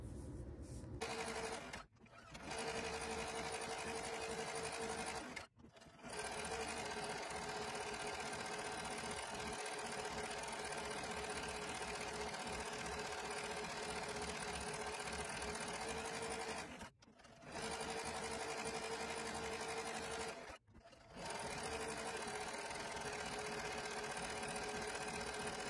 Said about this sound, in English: get some sewing and embroidery done